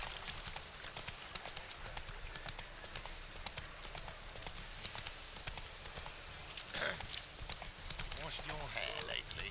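Horse hooves gallop across terrain in The Witcher 3: Wild Hunt, a fast rhythmic clip-clop running steadily throughout under game sound and a spoken voice.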